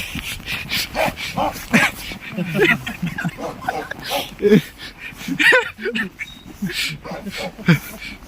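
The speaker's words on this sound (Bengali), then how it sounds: "এখানে একটা কুকুর দেখতে পাচ্ছি আমি রাশিয়ান কুকুর রাশিয়ান ডগ" A dog in a Russian village barks and yips in short bursts amid near, continuous talking.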